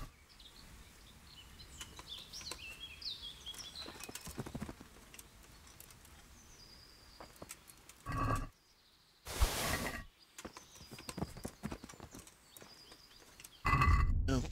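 Horse hooves clip-clop steadily in the video game Kingdom Come: Deliverance, during a siege, with a few sharp bursts and brief whinny-like sounds, faint birdsong in the background.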